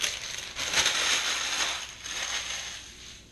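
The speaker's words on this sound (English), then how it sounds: "me smashing that piece of parchment up" A sheet of used parchment paper crushed and balled up by hand after baking a low-carb pizza on a cast iron plate, a continuous close crackling and crinkling lasting a few seconds.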